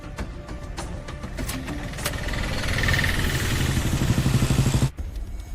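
A vehicle engine starts and runs, its rumbling throb building to a steady, fairly loud knock before a sudden drop near the end.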